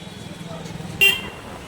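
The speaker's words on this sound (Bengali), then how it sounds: "যখনই কথা বলছি আমার কর্তামশাই প্যাঁ প্যাঁ করে হর্ন বাজাচ্ছে খালি" A single short, sharp motorbike horn blast sounds near the road by a temple, standing out loudly over a low background of traffic hum.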